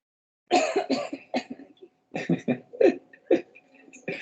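A person coughs repeatedly at close range, a burst of several harsh coughs, a short pause, then another run of hacking coughs.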